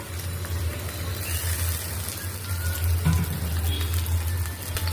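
Shrimp added to chopped onion in hot oil for a bottle gourd curry, giving a steady, even sizzle with a low hum underneath that continues throughout.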